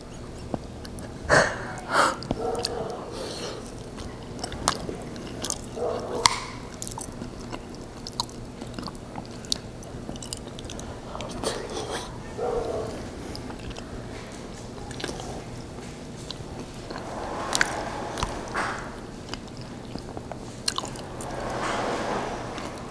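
Close, quiet chewing of corned beef with corn and taro at dinner, with wet squishy bites, soft smacking and occasional breaths in irregular bursts.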